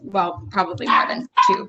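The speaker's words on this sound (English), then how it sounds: "I'm sorry for the barking" A dog barks several times in short bursts while a person keeps talking over it, close and fairly loud, with a brief pause near the end.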